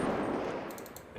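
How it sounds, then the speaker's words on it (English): Rapid automatic fire from the SMG Mark II in the game FiveM, a loud, dense burst of gunshots that fades slightly toward the end, with no talking. "you then got the SMG Mark II"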